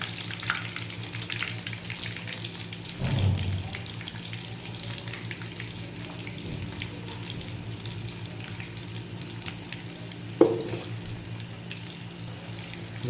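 Chicken broast pieces frying in very hot oil give a steady, close sizzle and crackle throughout, with a couple of brief louder splashes as pieces drop in, and no voice over it.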